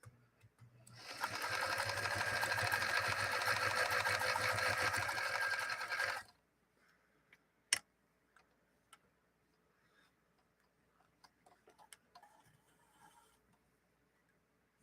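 A Singer Featherweight sewing machine runs steadily, stitching with a fast, even whir for about five seconds, then stops, leaving faint ticks and clicks of handling.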